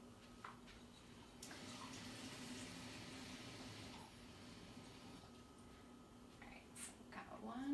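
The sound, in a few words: pouring water into a saute pan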